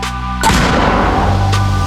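A single heavy boom of an 82 mm mortar firing, abrupt and loud, followed by a rumbling tail.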